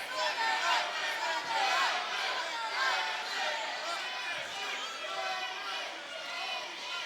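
A large crowd at an MMA bout roars and chants a fighter's name, a dense steady wall of voices filling the arena, with a commentator talking over it throughout.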